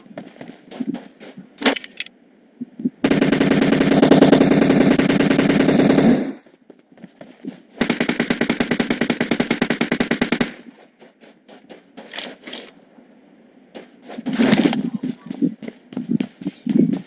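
Automatic weapon fire in PUBG Mobile, with two long, loud sustained bursts of rapid shots separated by a pause, and scattered lighter clicks and a player talking between the bursts.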